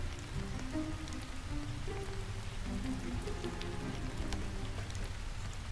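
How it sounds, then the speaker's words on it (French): Rain falls steadily in the Roblox game Brookhaven RP, a soft, even patter of drops hitting a surface that holds at a low level throughout with no talking. "Mais il pleut, il y a personne au skatepark."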